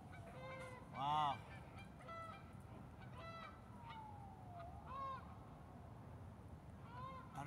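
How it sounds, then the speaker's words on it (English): Geese honk in the distance, several faint scattered calls with one louder burst, over quiet outdoor ambience as a small flock of four flies down toward water. "Four geese in perfect synchronization came down, flew, and went into the water."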